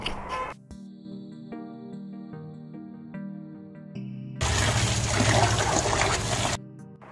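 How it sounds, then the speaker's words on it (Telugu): Soft tonal music plays, then water splashes and rushes for about two seconds as chopped spinach is washed for palak paneer, before fading back. "కట్ చేసుకున్న పాలకూరని బాగా వాష్ చేసుకోవాలి"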